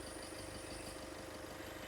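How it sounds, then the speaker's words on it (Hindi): A Kia Seltos HTE (O) CRDi 16-valve diesel engine idles steadily, a low, even rumble with faint ticking, heard alone with no talk. "भाई ये डीजल इंजन की आवाज़ है"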